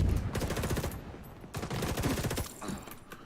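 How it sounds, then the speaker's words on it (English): Weapon fire from a grenade launcher in a first-person video game: a quick series of punchy shots and bursts, loud and close, with a brief pause in the middle. "Grenade launch"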